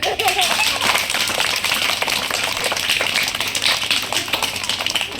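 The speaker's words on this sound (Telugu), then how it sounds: "క్లాప్స్ కట్టండి." An audience at a magic show claps, a dense crackle of many hands continuing without pause, with a voice speaking over it.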